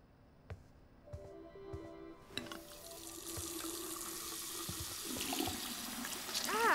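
A tap runs for hand washing in the game Life is Strange 2, starting after a few soft clicks and knocks and then pouring steadily, growing louder toward the end.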